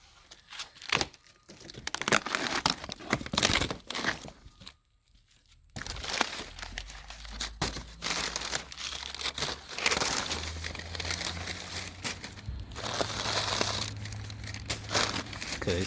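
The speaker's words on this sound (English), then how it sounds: "the first thing you get when you unbox, you see the Nerf bars. They're wrapped up in foam." Close, busy crinkling and tearing of foam and plastic packing as Factory 43 Nerf bars for a Raptor 700 ATV are unboxed, with rustles and crunches continuing after a brief pause and no talking.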